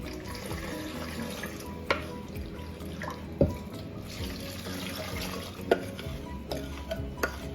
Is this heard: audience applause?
no